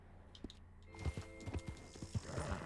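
A horse in Red Dead Redemption 2 whinnies briefly, then its hooves clip-clop in a quick, close rhythm over a faint game soundscape.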